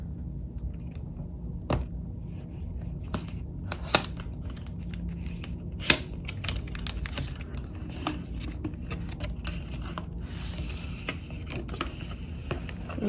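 Apple Watch SE packaging is unboxed up close: quiet, steady handling with soft rustling and scattered small clicks and snaps as the box is opened.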